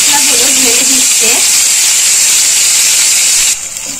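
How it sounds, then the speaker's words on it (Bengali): Spices poured into hot oil in a cooking pot for a hilsa fish curry sizzle in a loud, steady, close hiss, with a voice briefly under it at the start. "তেলগুলো যখন গরম হয়ে আসছে মাম্মি মশলাগুলো ঢেলে দিচ্ছে।"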